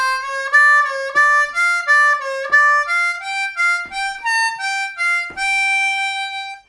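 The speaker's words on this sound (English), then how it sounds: "Okay, so final pattern is a 16th note based pattern." A blues harmonica plays a fast 16th-note pattern moving up through the scale, clear bright reedy notes in quick even groups, close and loud with no talking.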